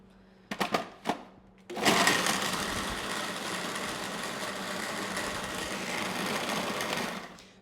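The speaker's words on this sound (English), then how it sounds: "So we've got it all in the processor. Let's turn it on," A food processor blends raw salsa after a few clicks and knocks, running as a loud, steady motor whir with chopping churn for several seconds, close up.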